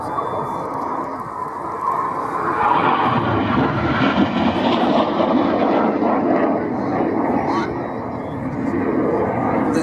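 Red Arrows jets fly past at the Biggin Hill airshow, a broad roaring engine sweep that builds and lingers across several seconds while a commentator keeps talking over it.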